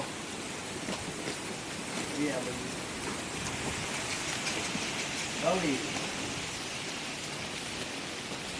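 Steady rain falls with a constant hiss, with faint voices briefly audible beneath it.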